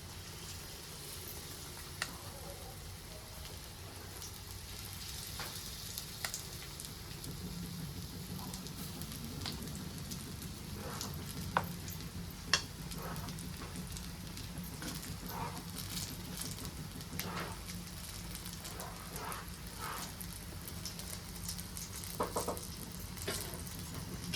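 Bread slices coated with a besan (gram flour) batter of onion and tomato fry in oil on a pan, giving a steady, close sizzle and crackle throughout with no voices.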